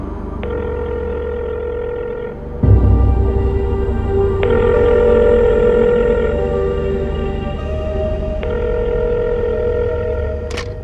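Telephone ringing in a Hindi dubbed love-story action film, a steady harmonic electronic ring that stops briefly and resumes louder over a low rumbling score, continuing for the full length with no talk over it.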